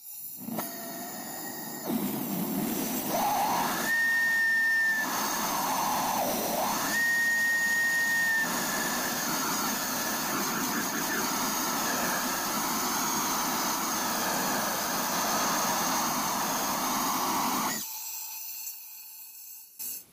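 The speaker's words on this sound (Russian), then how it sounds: "Итак, продемонстрирую факел маленькой горелки" A homemade vortex burner, the small one, runs on propane and compressed air at 6 atmospheres and gives a loud, steady jet-like roar with a hissing edge and brief whistling tones. It starts after about two seconds and cuts off abruptly near the end.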